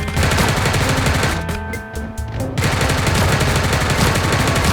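Rapid automatic gunfire in the battle royale game Sausage Man, loud dense bursts with a brief gap of separate shots in the middle before the firing resumes.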